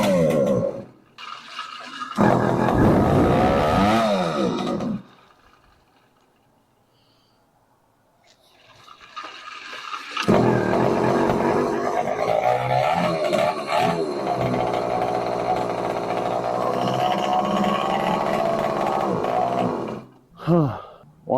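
An 80cc motorized bicycle engine runs with a loud, rough buzz, cuts out into near silence for several seconds, then fires up again and runs steadily before dropping away at the end.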